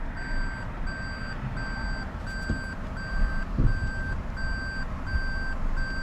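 Steady reversing beeps, evenly spaced, ring out loud and clear while a 2019 Toyota Prius with about 81,000 miles on it backs into a repair shop, over low rumbling shop noise.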